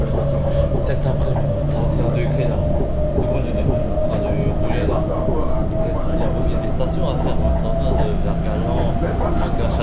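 An RER commuter train rides through Paris, heard from inside the carriage as a loud, steady rumble with a sustained whine and faint rattling clicks, while a voice talks over it.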